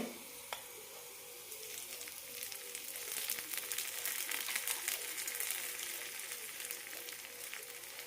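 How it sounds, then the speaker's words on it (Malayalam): Mustard seeds, curry leaves and shallots sizzle in hot oil for a Kerala ash gourd and lentil curry, a steady close crackling fry that builds and holds, with fine spattering pops and no talking. "ഇനി ഇതിലേക്ക് തളിച്ചിടാം കടുക് കറിവേപ്പില ചെറിയ ഉള്ളിയിട്ടാണ് തളിച്ചിരിക്കുന്നത്"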